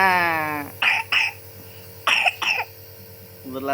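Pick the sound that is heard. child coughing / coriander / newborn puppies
child coughing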